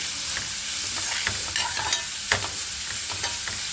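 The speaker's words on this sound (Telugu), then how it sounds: "జామకాయ తురుము ఉంది కదండి, ఇది పచ్చి వాసన పోయేంత వరకు నెయ్యిలో వేయించాలండి" Grated guava frying in ghee for a halwa, a steady close sizzle broken by intermittent spoon scrapes and stirring clatter throughout, with no talking.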